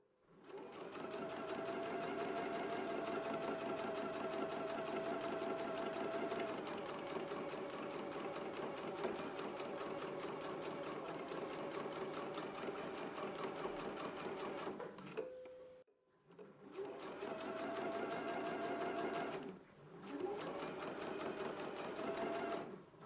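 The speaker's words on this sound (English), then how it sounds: "I can go ahead and reinforce this stitch by stitching right over it again" A sewing machine runs a continuous stitch back over a 5/8-inch seam to reinforce it, a steady close whirring hum with two short pauses before the stitching resumes.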